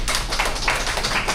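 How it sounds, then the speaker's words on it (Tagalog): Audience applause at a Filipino business presentation, a short burst of steady clapping from a crowd, fairly close and without talk. "Palakpak po tayo dyan!"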